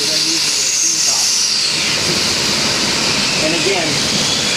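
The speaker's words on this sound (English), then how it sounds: "Here's a good example of them using their steam power." Steam hissing from a Walt Disney World Railroad steam locomotive at the roundhouse, a loud, constant broadband hiss that fills the whole moment, close by and unbroken.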